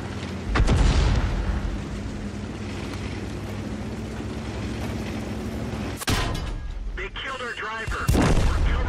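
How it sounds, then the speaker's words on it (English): Artillery shells crash and rumble during a World of Tanks battle, a continuous heavy roar of booms with sharp impacts around six and eight seconds, loud and close, with battle sounds layered over it. "Artillery's trying to stop us because he's probably gonna die."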